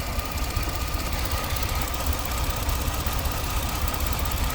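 A running car engine with a P0303 cylinder 3 misfire code heard up close, with a rapid, steady ticking and knocking rhythm over a constant mechanical rumble.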